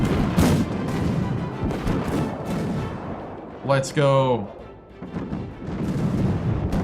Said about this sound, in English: Alright, we got some explosions going on.